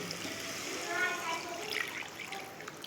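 Hot water pours into a simmering snakehead fish curry with taro and potato, a soft, steady trickle and splash running throughout, quiet and close, with faint voice underneath.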